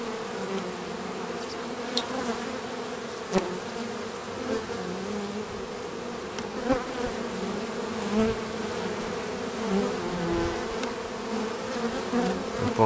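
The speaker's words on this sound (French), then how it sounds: "Donc nous revoyons quelques abeilles rentrer avec du pollen." Honeybees buzz around a hive entrance as foragers return with pollen, a steady dense drone close to the hive with occasional sharp knocks.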